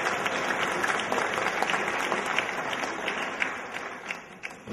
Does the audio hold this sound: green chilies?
no